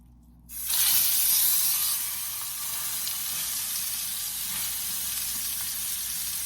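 Meat laid into a hot pan to sear, a sudden loud sizzle bursting in after a moment of quiet, then settling into a steady, close hiss and crackle of frying.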